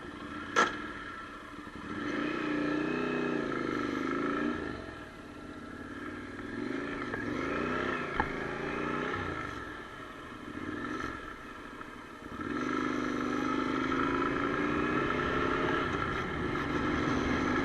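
A Honda NC700X motorcycle fitted with Acerbis hand guards rides up and down a street, its engine rising and falling in pitch as it accelerates and eases off, heard fairly close and steady with no talking.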